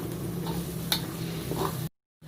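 Onion and ginger sautéing in a little oil while cooking ayam masak merah, a steady close sizzle with faint stirring scrapes, cutting out abruptly near the end before resuming briefly.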